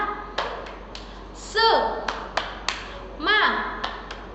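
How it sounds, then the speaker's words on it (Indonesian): A class claps out a rhythmic spirit cheer, tepuk semangat, in quick sharp bursts of hand claps, with an adult voice chanting between the claps. "Oke, kita tepuk semangat dulu ya."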